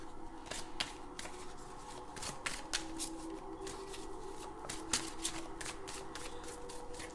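Steampunk Tarot cards shuffled by hand in a steady run of crisp, papery riffles and slaps, close and fairly loud, with a faint low hum beneath and no talking.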